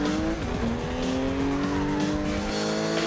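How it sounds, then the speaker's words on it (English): A race car in Ridge Racer Unbounded roars at high revs, then brakes hard and slides on a handbrake skid, its tires squealing loudly over the engine throughout. "Getting lots of speed before stamping on the brakes, and a little handbrake there just to finish off"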